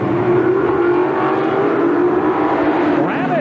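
Super modified race cars in the 100-lap feature at Oswego Speedway, 1985, roar as a loud, continuous wall of engine noise with a steady drone and a rising whine near the end.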